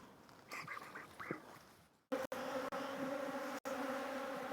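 Honey bees buzzing around an open hive during a beekeeping inspection, a steady close drone with a few louder passes near the microphone, alone without talk.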